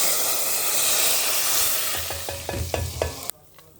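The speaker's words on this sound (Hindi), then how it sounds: "तड़के की जो ये शुड़ शुड़ शुड़ वाली साउंड होती है ना, बड़े मज़े की होती है" Hot oil sizzles loudly as whole spices are tempered for a tadka, a bright steady hiss that fades, followed by a few clinks of a utensil and a sudden stop.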